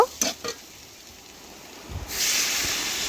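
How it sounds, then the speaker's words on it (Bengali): Potatoes frying in a pan: a soft hiss with a few clinks early on, swelling into a louder, steady sizzle for the last second. "আমি এক থেকে দেড় দেড় মিনিট ভালোভাবে আলুটা ভেজে নেব"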